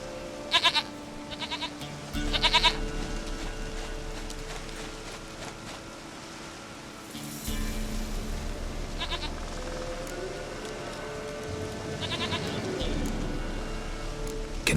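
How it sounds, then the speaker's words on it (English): Goats in The Witcher 3: Wild Hunt bleat in short repeated calls over a steady low in-game ambience, with hoof clip-clops and a few birds in the background. "Goat of mine, dearest, sweetest goat."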